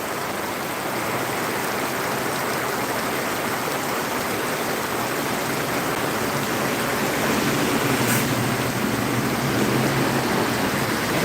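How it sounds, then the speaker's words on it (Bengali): Heavy rain from a thunderstorm in Phulpur roars steadily and loudly, a dense unbroken wash of falling water that swells slightly toward the end; no thunder claps stand out. "এবং প্রচুর বৃষ্টি"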